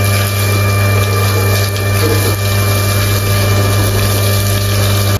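A steady, loud rush of a pressure washer spraying water over a Royal Enfield GT650 motorcycle, with a constant pump drone underneath and no pauses across the stretch.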